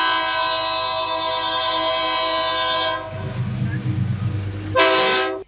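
A train horn sounds in long sustained blasts with rich harmonics, then cuts off as the heavy rumble of passing railcars takes over, ending with another loud horn blast close by.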